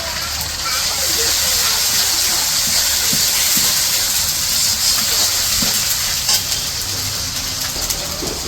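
Ginger garlic paste is added to fried onions in a pan in a village kitchen. It sizzles with a loud, continuous hiss and scattered spits, while voices talk over it.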